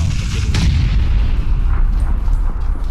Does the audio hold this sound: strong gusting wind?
no